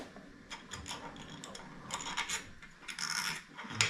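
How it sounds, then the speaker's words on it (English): Four small M3 screws being backed out in a late-night garage: faint, rasping turns and scrapes come in short bursts with brief pauses, close and quiet. "I'm going to pull those 4 screws out."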